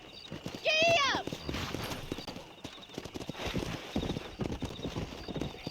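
Horse hooves clop in the Red Dead Redemption video game as a horse sets off riding, with a loud whinny early on followed by a steady run of rhythmic hoofbeats.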